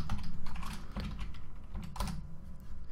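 Rapid typing on a computer keyboard, with dense, continuous clicking close up and no pauses or voices.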